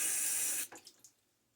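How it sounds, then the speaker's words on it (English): Running water from a bathroom sink faucet flows steadily, then cuts off with a few small splashes and drips as water is sprinkled onto a face before a shave with tallow soap. "sprinkle a little bit of water on my face here"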